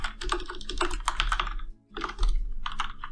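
Steady run of rapid keystrokes on a computer keyboard, close and clear, with a short pause before another quick burst of typing; no voices.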